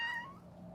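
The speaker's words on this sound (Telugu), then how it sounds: "నేను పెడదాం పిల్లికి" A single short, close meow from a cat waiting to be fed, fading quickly.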